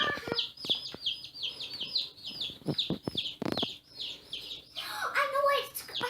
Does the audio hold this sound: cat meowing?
no